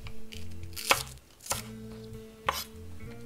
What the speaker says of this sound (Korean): 푸른 부분도 그냥 가릴 거 없이 얘는 그냥 이렇게 길이로 한 번에 잘라주세요.